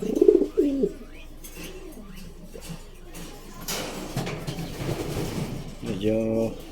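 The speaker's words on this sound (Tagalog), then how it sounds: "So mamarako na siya at medyo sumasagot na rin yung isang ibon natin." A racing pigeon coos in low, throaty rolls, with another pigeon answering, both close by; someone speaks in between the calls.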